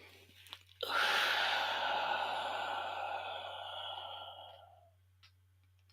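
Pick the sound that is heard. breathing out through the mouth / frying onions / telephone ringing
breathing out through the mouth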